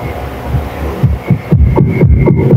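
Krell CA16 power amplifier, repaired after a blown capacitor and protection fault, plays music through speakers: loud, steady thumping bass beats with a humming tone, no talking.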